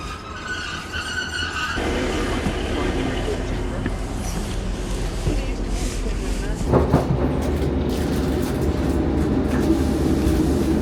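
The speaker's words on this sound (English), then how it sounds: "and then I'll be getting the train home" Train ride home from a rehearsal, with a steady rumble of a rail carriage in motion and faint clattering throughout, a brief louder swell near the end, and voices murmuring under the noise.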